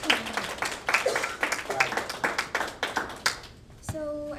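Scattered audience at a school orientation night clapping, distinct individual claps with a loose rhythm that thin out and stop, followed by a voice starting to speak.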